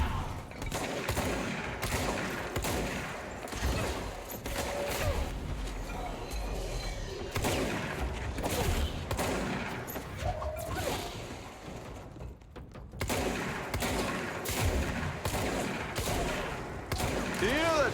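Shotgun blasts and combat effects in the video game Control, loud repeated bangs mixed with mechanical clatter and crashes, continuing densely throughout.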